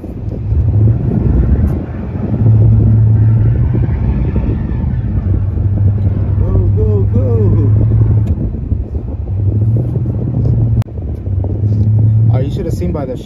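Box Chevy with a 454 V8 driving through snowy streets: a steady low engine drone with shifting pitch rises and falls, heard from inside the car under people talking.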